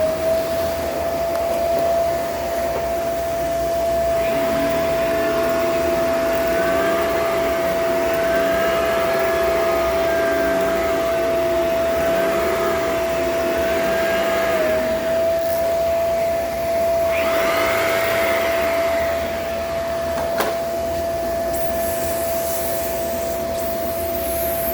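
A vintage vacuum cleaner with worn bearings runs loud and steady throughout, a constant motor whine with a rough, grinding undertone and slight shifts in pitch, close by and alone.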